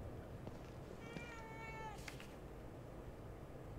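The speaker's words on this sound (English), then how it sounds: "Look at that. A cat." In The Evil Within 2, a cat lets out a single drawn-out meow, clear and fairly close, over a low ambient background.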